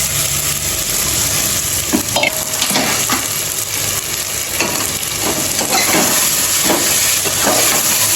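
Chicken pieces tossed into red masala and stirred in a hot pan, a loud, constant hissing sizzle with repeated scraping strokes of a spoon roughly every second.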